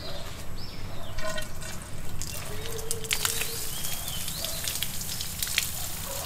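Water runs from an improvised manual push pump drawing from a deep river at home, a steady splashing flow through the valve with trickling and dripping, fairly close.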